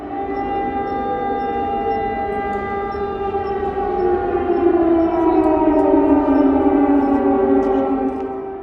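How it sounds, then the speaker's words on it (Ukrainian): An air raid siren in Ivano-Frankivsk, Ukraine, wails loudly and continuously, its pitch slowly rising and falling in a long sustained drone with no voices. "Ось так звучить повітряна тривога в Івано-Франківську"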